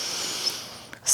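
A deep inhale through the nose during a Kundalini yoga breathing exercise, a single close, breathy, hissing intake of air lasting about a second and rising in strength at the end.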